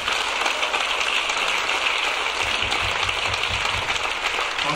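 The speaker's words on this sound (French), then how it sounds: "on applaudit le papa et la maman de David." Steady applause from a crowd at a city medal ceremony in Chelles, France, dense and continuous clapping that fills the space for several seconds.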